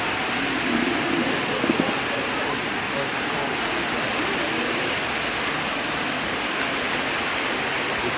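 Floodwater rushes through a flooded hotel in Shilinmen with a constant, dense hiss-roar of moving water, steady and fairly loud across the whole stretch.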